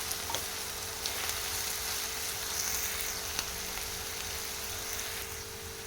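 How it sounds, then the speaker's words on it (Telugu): Spiny gourd (boda kakarakaya) frying in a pan gives a steady, even sizzle that runs the whole time, fairly quiet and close, with a few faint stirring ticks and no talking. "కాకరకాయని ఇలా ఫ్రై చేసుకుంటే మంచి టేస్ట్ వస్తుంది"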